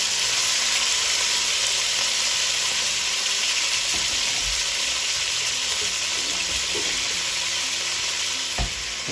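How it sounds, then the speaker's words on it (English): Meat for carne al toro fries in batches in very hot oil in a pan, giving a steady, dense, close sizzle throughout with a few faint knocks near the end. "the oil is really hot, and I'm gonna be cooking the meat"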